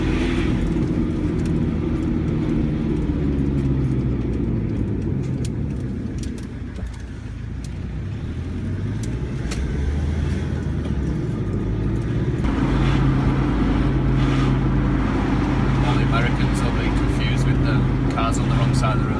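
Cars driving along a road near a rainy campsite produce a continuous loud rumble of passing traffic, with a voice talking over it.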